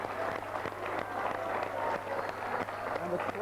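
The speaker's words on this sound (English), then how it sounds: "And the crowd is absolutely delighted." Cheering and applause ring out from a studio audience at a cricket quiz show as a steady, dense burst of clapping, with a voice talking over it.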